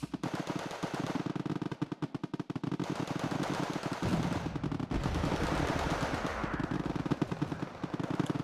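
Dense, rapid rattling bursts of gunfire with heavy booming impacts from mortar fire in the Wargame: Red Dragon battle, continuous and loud throughout with a rumbling low layer.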